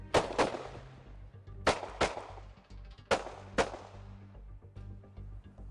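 Tactical carbine fire on an outdoor shooting range, three pairs of sharp, loud shots spaced a second or so apart, each ringing off into a short echo.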